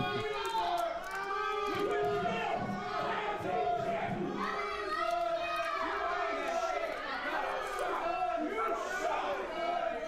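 Wrestling arena crowd at a WCWO Friday night show shouting and chanting at Zay Gates, a dense wall of voices with rising yells and overlapping chatter throughout.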